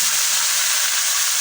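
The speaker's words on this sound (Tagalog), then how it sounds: "Ato sa ning pritohon ning bulad mga ka-idol." Dried fish (bulad) frying in a pan: a loud, steady, close sizzle with continuous bright hiss and no pauses or voices.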